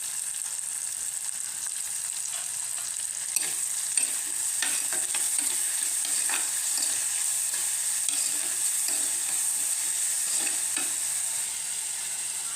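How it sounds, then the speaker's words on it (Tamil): Tomato and curry leaves frying in a pan, a bright steady hiss of hot oil with intermittent crackles and stirring scrapes, close and continuous, no talk. "அடுத்து தக்காளி, கருவேப்பிலை போட்டுக்கோங்க"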